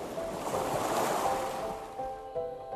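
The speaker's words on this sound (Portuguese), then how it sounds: "Na força das ondas, no efeito das correntes ou no cintilar tranquilo das águas" Ocean waves break along the Madeira coast, a broad rushing surge that swells and slowly recedes, loud and close with some wind noise, no voices.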